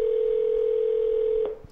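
A telephone in a comic audio play gives a single sustained electronic tone, loud and alone, that stops abruptly after about a second and a half with a brief click.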